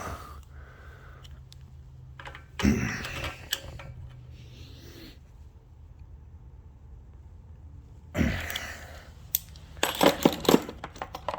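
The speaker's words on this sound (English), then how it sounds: "We'll throw the tappet cover back on real quick." Metal clanks and scraping clatter as the tappet cover goes back onto a John Deere 240 engine, with two bursts of handling noise and sharp knocks separated by quiet stretches, close and alone.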